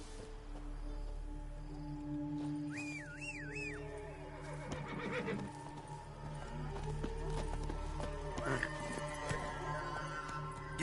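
Horse in the Witcher 3 video game whinnies once, then hooves clop along at a steady gallop under continuous ambient hum, moderately loud, with no talking.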